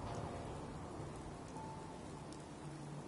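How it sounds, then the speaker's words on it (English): Steady rain falls in the video game Fallout 4, an even, continuous hiss of droplets throughout with no talking. "it just started raining. I think this is the first time I've seen rain in the game."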